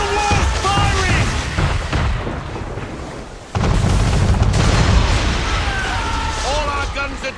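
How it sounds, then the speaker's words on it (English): Heavy cannon broadsides from a man-of-war warship in Assassin's Creed 3 Remastered boom out in loud, overlapping blasts amid a constant din of battle, with voices shouting over the roar. "Man of war's firing!"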